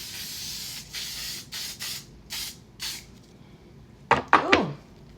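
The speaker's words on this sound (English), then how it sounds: "even just spraying that on, I feel like my makeup's gonna hold" Setting mist sprayed onto the face in a makeup routine: a run of short, close pressurised hisses at an uneven pace, followed by a few sharper, louder bursts near the end.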